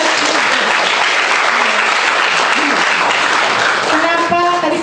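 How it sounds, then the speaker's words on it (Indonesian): Audience at a university public lecture breaking into loud, sustained applause that fills the room, with a voice starting to speak as the clapping fades at the end. "Baik, tepuk tangan buat teman kita."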